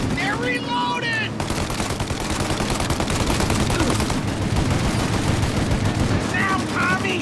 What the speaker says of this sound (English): Shoot up their gun when there's a break in the fire!